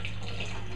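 Honey-rinsed spring water poured from a honey container into a mead jar, a short steady liquid trickle heard close up, with no talking.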